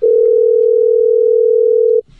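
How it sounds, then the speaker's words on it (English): A telephone line gives a loud, steady dial tone, one unbroken pure hum lasting about two seconds before it stops abruptly. "Tim Gunn, let's dial him up and see what he's got to say."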